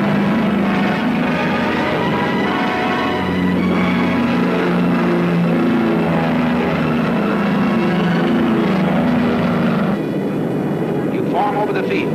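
A wartime combat aircraft engine roars at full throttle for takeoff, a loud, continuous droning rumble throughout, overlaid by a narrator's voice speaking.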